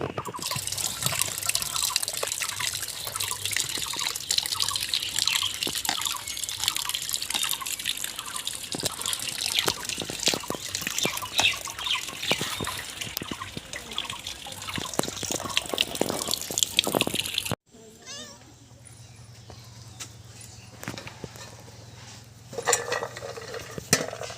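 Cleaned goat tripe being washed in water in a home kitchen, with splashing, dripping and sloshing, occasional clinks of a metal bowl, then a quieter stretch of faint trickling near the end.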